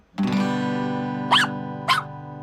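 Two short, high-pitched puppy yips ring out over a steady sustained tone, close and sharp, about half a second apart.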